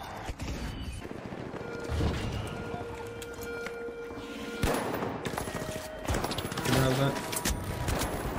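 AK rifle fire in The Finals, rapid bursts of gunfire mixed with game effects and movement noise, with people talking over it throughout.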